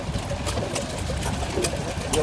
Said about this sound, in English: Very tiny, that model engine.